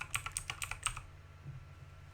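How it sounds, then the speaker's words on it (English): About eight quick keystrokes tap out on a computer keyboard in a brisk burst during Minecraft play, then stop, leaving a faint low hum; close and fairly quiet. "Why am I typing in furnace?"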